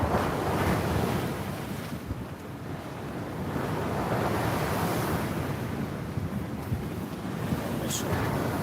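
Sea waves breaking on the beach at Cleveleys while fishing for cod, a steady loud wash of surf mixed with strong wind buffeting the microphone throughout.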